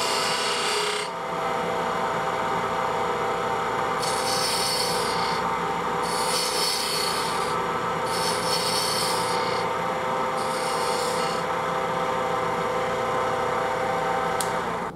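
A spindle gouge cuts into wood turning on a lathe, giving a continuous close scraping rasp over a motor hum, with the cut swelling in several repeated pulses.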